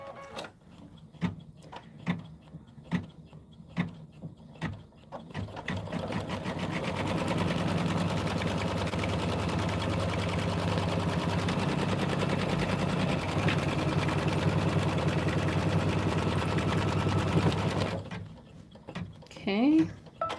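A home embroidery machine stitches a placement line for a quilt block, running as a steady, close mechanical whir for most of the clip, with a few sharp clicks and knocks and some talk before it starts.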